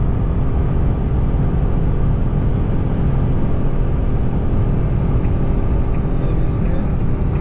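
A 660cc small car cruising at highway speed while overtaking a Honda BR-V, giving a steady, loud engine drone mixed with road and wind noise that holds constant throughout.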